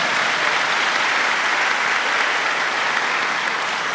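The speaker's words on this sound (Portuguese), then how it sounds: "Pode aplaudir quem está me ouvindo." Audience applauding during a sermon by a Brazilian preacher couple on husband and wife roles in marriage, a steady, dense clapping that fills the whole stretch without a break, with no voices over it.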